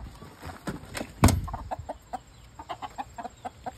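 A rooster lets out a loud squawk, followed by a run of quick, agitated clucks close by.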